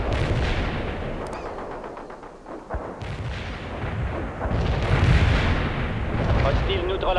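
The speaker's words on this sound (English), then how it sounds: "Fire mission received. We're aiming the mortars right now." Mortar artillery fire in the video game World in Conflict: heavy booms and rolling blasts repeat over dense battlefield noise, with faint voices mixed in.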